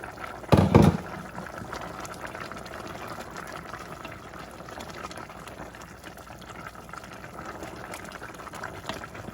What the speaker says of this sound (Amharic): ቆንጆ ሆኖ እየበሰለ ነው ያለው አሁን